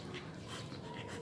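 A dog pants and laps softly up close, a steady wet breathing and licking sound with a faint whimper mixed in.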